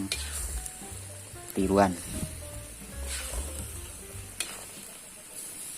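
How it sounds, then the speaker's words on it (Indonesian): Rendang spice paste fries in a pan with a steady sizzle and a few scraping stirs, and a brief voice speaks over it midway. "Dalam proses menumis bumbu rendang"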